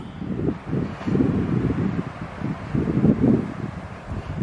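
Wind buffets the microphone on a Pine Barrens hiking trail, a steady low rumble that swells into stronger gusts and then eases, loud and close with no talk over it.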